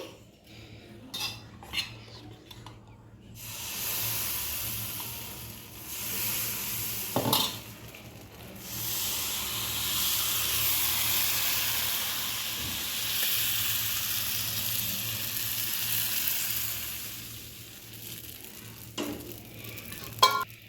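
Appam batter sizzles steadily in a covered pan, a loud continuous frying hiss with occasional clinks of utensils at the start and end.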